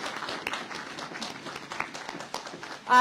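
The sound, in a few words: applause for the Sprouts team at grand opening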